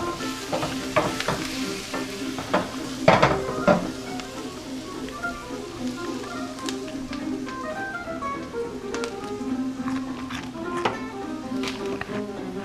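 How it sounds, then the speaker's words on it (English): A wooden spoon stirs tomatoes and mushrooms for a vegan Indian fusion curry, giving a continuous sizzle with scraping and clacking stirs, louder around the third second, over faint background tones and no speech. "Search the kitchen for a wooden stir thing like this."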